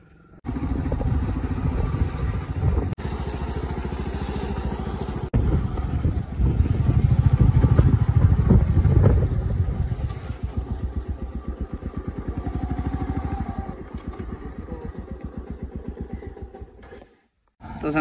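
A motorcycle rides along a road near a dam, its engine droning steadily and close for most of the stretch, with a louder swell in the middle before it cuts off near the end.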